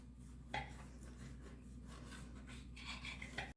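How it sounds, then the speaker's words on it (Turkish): Knife slicing strips of dough on a wooden board for homemade potato crispy sticks, soft repeated scraping and tapping cuts, faint and close. "Bu şekilde kesmeye devam ediyorum."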